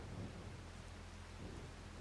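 Rain and thunder in the Farming Simulator 25 video game make a faint, continuous hiss of falling rain, with a soft low rumble of thunder underneath throughout.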